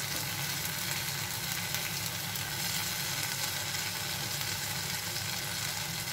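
Broad beans (avarakkai) sizzle steadily as they fry in a tomato curry, a dense, even crackle that holds at a constant level throughout with no talking.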